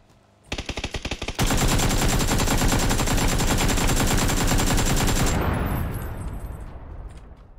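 AK rifle fire in an online shooter game: a short burst of rapid shots, then several seconds of loud continuous automatic fire that tails off into echo.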